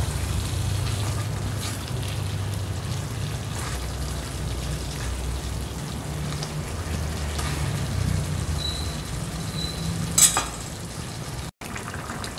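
Young goat meat sautés with spices for red gulai, giving a steady, dense sizzle like light rain throughout, with a faint scrape of stirring near the end.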